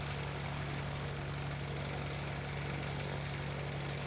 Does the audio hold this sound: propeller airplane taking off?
yes